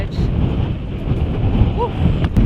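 Strong storm wind buffets the microphone on the extended fly bridge of an anchored boat, a loud continuous roar throughout, with a faint voice and brief bird-like chirps partway through.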